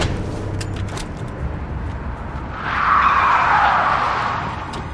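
A car arrives and skids in Splinter Cell: Conviction, a rising tire screech that swells and fades over a low engine rumble at mid distance, with no talking.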